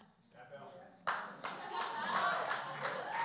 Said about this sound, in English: he got a hand clap